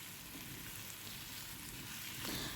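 Okra curry with onions frying in a pan after salting and stirring, a steady close sizzle with crackling spatter throughout, no voices.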